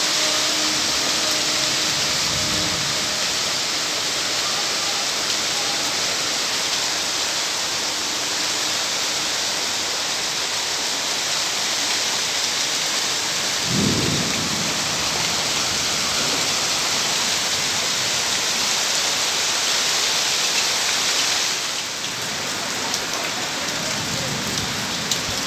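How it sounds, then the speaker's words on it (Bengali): Steady, heavy rain falls on a monsoon morning in Chandannagar during Shitala Puja, giving a dense, even wash of rainfall close by that runs unbroken for the whole stretch, with no clear thunder and no voices. "এই মুহূর্তে বৃষ্টি হচ্ছে, আর তার সঙ্গে মেঘ গর্জনও হচ্ছে"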